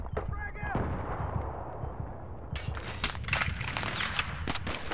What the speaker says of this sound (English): Where's this guy shooting us from?